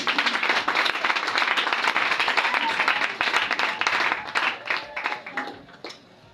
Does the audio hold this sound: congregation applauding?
yes